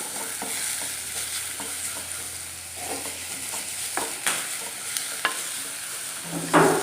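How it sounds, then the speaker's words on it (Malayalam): Chopped onions sauté in hot oil that was earlier used to fry pappadam, a steady close sizzle with occasional scraping stirs. "എന്നിട്ട് ഇത് നന്നായിട്ടൊന്ന് വഴറ്റിയെടുക്കാം"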